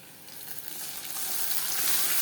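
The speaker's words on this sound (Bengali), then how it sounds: "এখন আমি মশলাটা ভেজে নিব।" Spice paste of ground cumin, coriander, ginger, garlic, onion and tomato fries in a pan for chicken kosha, a steady close sizzle that swells louder toward the end, with no talking.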